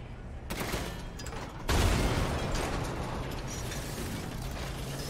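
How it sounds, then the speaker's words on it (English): A heavy blast of video game cannon fire erupts and rolls into a long, dense rumble of noise, loud and sustained, with clattering mechanical effects. "ready cannon, fire cannon"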